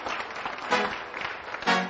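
Brief burst of studio audience clapping on a French television show as a guest is welcomed, with a couple of louder swells.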